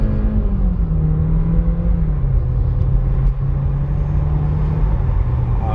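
A 2021 Volkswagen Jetta Comfortline pulls away at full throttle, its engine droning loud and close from inside the cabin, pitch climbing slowly through a gear before easing and rising again.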